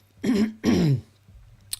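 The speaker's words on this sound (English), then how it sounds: "Let me clear my throat" Two firm throat-clearing bursts from a man sound close and loud in quick succession, followed by a brief faint click and quiet.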